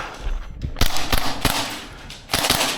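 A Maruyama SPC-9 gas blowback airsoft rifle fires several sharp, loud snapping shots in an irregular sequence, each a crisp crack with a short mechanical clack of the bolt, heard close up.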